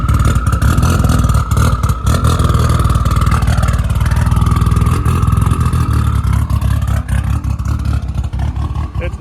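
A race car engine runs steadily with its exhaust clamped by aftermarket clamps, a loud, close, continuous rumble with slight rises in pitch and a faint metallic clatter.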